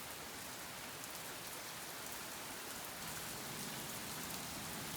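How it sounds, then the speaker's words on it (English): Heavy afternoon rain pours in a dense, unbroken hiss, loud and constant, growing slightly stronger toward the end. "Well, the rain is picking up."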